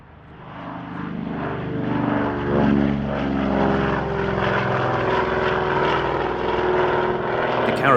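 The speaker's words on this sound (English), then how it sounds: "the next classic aircraft we're going to see, the DHC-4 Caribou" A DHC-4 Caribou twin-propeller transport drones overhead at a military airshow, its engine roar swelling from moderate to loud and holding steady with a throbbing propeller beat.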